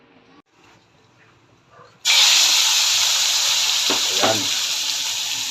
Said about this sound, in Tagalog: Semi-fried muna natin tong mamoy.